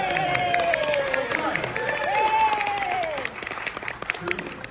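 A conference audience claps and cheers before a skeptics' convention talk begins, a lively burst of applause with whoops, while a voice speaks over it.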